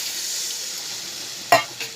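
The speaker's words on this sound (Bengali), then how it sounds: "এখন আমি জল দিয়ে মশলাটা সুন্দরভাবে কষিয়ে নিয়ে দিয়েছি আর এবার তেলটাও বেরিয়ে গেছে" Spice paste for Bengali fish kalia sizzles steadily in oil in a pan, a continuous frying hiss with a sharp stir or scrape near the end, heard close and alone.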